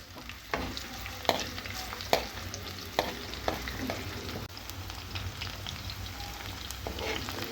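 Curry leaves and onions fry in hot oil with a steady sizzle, broken by sharp crackles and pops scattered throughout and occasional stirring scrapes, close and moderately loud, with no talking.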